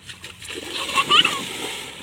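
A child jumps into a pool with a short bright splash and sloshing water, heard under nearby voices talking.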